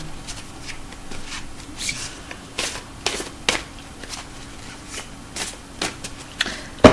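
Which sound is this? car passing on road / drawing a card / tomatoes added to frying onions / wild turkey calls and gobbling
drawing a card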